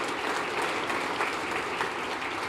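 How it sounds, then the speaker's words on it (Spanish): Church congregation applauding God during a Spanish-language sermon, a dense, steady wash of clapping that holds at an even level throughout without letting up. "Démosle un aplauso al Señor Dios Todopoderoso."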